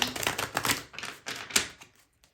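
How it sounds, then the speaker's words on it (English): Tarot cards are shuffled in quick riffling bursts of crisp clicking and flapping, close up, then stop. "Just going to give the cards a quick shuffle."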